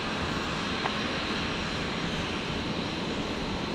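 A Jetstar jet departs Brisbane Airport with a constant, moderately loud engine roar and no break in the sound.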